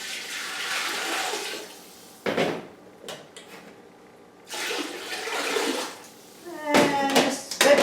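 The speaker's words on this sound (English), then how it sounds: "now it's time to add our water. So I usually fill my pot to about here." Tap water pours into a soup pot for ham and bean soup in bursts, a hissing splash that stops and starts with clunks and knocks in between, ending in louder clattering.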